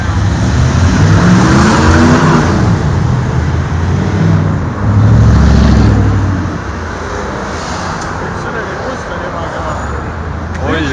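Several American muscle cars with deep V8-style engines rumble and rev loudly nearby, the exhaust swelling in heavy surges midway before easing to a steadier idle, with people talking over the noise.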